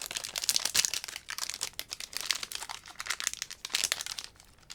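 Crinkly foil wrapper of a Lord of the Rings collector booster pack being torn and pulled open, a close, continuous stream of crackling and crumpling with irregular bursts.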